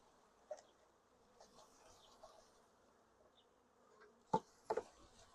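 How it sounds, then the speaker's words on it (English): Package bees being shaken out of their shipping box and installed into a hive, giving a faint, steady buzzing hum with a couple of sharp knocks near the end, heard alone with no talking. "And now these bees will start to head down in there."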